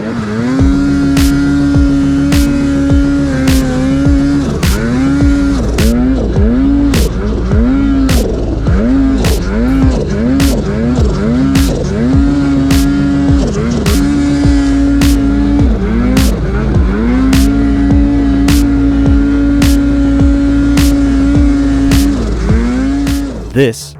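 A 2022 Polaris Matryx Patriot Boost RMK Chaos 155 snowmobile engine runs loud and close, its pitch rising and falling in repeated blips with sharp periodic ticks throughout.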